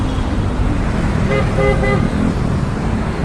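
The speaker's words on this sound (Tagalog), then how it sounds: "Ganito kabisi ang highway ng EDSA." Heavy traffic roars along the EDSA highway, a loud, continuous rumble of cars with a car horn sounding in a few short toots partway through, close by.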